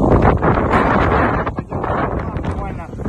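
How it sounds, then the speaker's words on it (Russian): Strong gusting wind buffets the microphone at a small harbour on an island, a broad roaring rush with brief dips, and faint talk underneath. "Вот, ребята, мы вам покажем, что значит резко меняется ветер."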